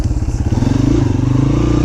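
A dirt bike engine revs up close on a farm, a loud, rough popping and rising drone with a rapid pulsing beat, alone over about two seconds.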